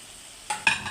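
Beef curry meat being stir-fried in spiced oil in a pan, a quiet start giving way to bursts of sizzling and stirring that grow louder toward the end.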